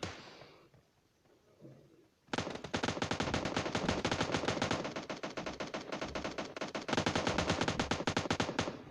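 Rapid automatic gunfire rings out in a shooter video game, starting after a quiet stretch and then holding up a dense, loud, continuous burst of shots with brief dips.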